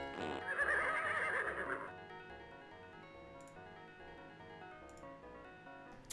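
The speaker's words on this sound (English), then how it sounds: "Oh my God, there's horses everywhere." Horses neigh in the Freddy Pharkas: Frontier Pharmacist computer game, a loud whinny at the start followed by quieter game music with soft, rhythmic hoofbeats.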